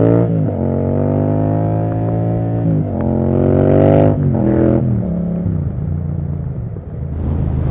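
Yamaha MT-07 motorcycle engine revving steadily, its harmonic drone dropping and climbing as it shifts through the gears, loud and close with no talk over it.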